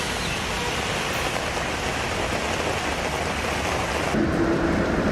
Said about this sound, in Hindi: दिल्ली एनसीआर में सुबह से बारिश हो रही है।